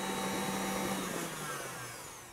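An electric mixer whipping eggs and sugar for Italian wedding pastries, a steady close whirring drone that holds level and then eases off slightly toward the end, with no voices.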